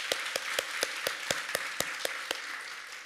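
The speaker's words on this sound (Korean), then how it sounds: "우리 하나님께 감사의 박수를 드리겠습니다." A church congregation at a Korean Sunday worship service claps in unison, about ten evenly spaced, steady claps over a soft background hum, with no talking.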